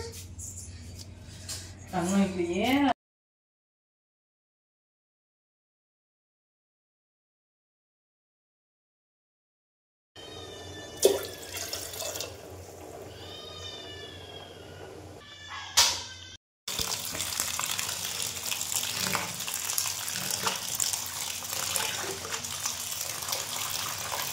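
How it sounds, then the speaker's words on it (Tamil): Tap water gushes steadily over siru keerai greens being washed in a kitchen. A short burst of other sound comes first, then a silent gap, with a few knocks before the running water takes over. "கீரையை அலசணும். நல்லா 2 தடவை நல்லா வாஷ் பண்ணிக்கணும்."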